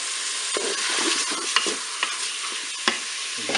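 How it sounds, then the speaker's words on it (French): Onions and semolina garlic sizzle and fry in a Cookeo multicooker, a steady close hiss broken by brief stirring scrapes, with no voices. "Je vais ajouter mes oignons. Je vais saupoudrer avec mon ail semoule."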